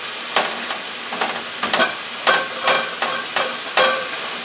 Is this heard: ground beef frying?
yes